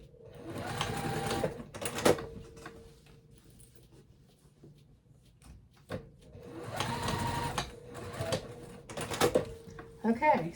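Home sewing machine restitching a seam on a quilted boxy fabric bag, two bursts of rapid mechanical stitching with clicks and thumps between, a person talking softly during the pauses.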